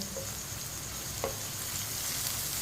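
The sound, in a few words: ridge gourd (tori) frying in a pan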